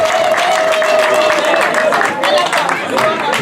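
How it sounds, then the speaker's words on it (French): An audience at a fiftieth-anniversary celebration applauds loudly and continuously, with crowd chatter and voices mixed into the clapping. "Applaudissez très fort pour elle"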